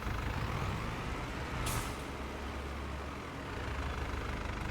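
Continuous road traffic with trucks rumbling past in Farming Simulator 25, a steady low engine drone with a brief hissing air brake burst partway through, fairly loud and without speech.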